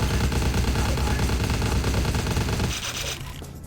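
Rapid automatic gunfire rattles in Vampire The Masquerade: Bloodlines, a loud, dense stream of shots that runs without pause, then cuts off and thins out near the end.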